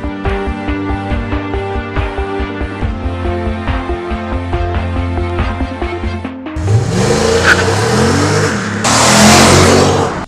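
A Porsche Panamera 4S in Sport Plus mode pulses at a low rumble, then bursts into a loud, close roar as it accelerates hard, the engine note climbing through its revs.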